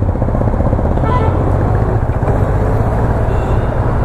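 Kawasaki Z900 sport motorcycle with a sporty exhaust, a steady low engine rumble droning continuously and loudly throughout, heard close with constant wind and road noise.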